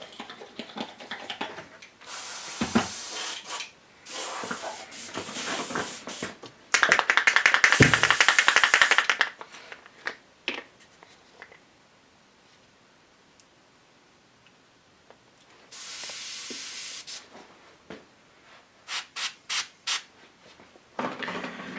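An airbrush sprays thick Vallejo paint onto an Evil Queen Sideshow statue during a broken-finger repair: several close hissing bursts, one longer than the rest, separated by quiet stretches and small clicks, with no talking.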